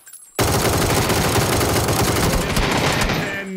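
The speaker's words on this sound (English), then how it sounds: "Starts to land some shots, but then is plowed by Kermit" Sustained automatic gunfire from the battle royale game PUBG bursts in abruptly after a brief quiet moment, loud and rapid, then holds as a dense, unbroken rattle before easing slightly at the end.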